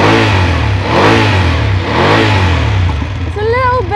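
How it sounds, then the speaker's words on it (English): A BMW F 850 GS motorcycle engine runs just after start-up, a steady close mid-pitched hum with slight revving swells, a faintly hairdryer-like tone, while a voice speaks over it. "if you come in close, we're gonna hear that engine sound"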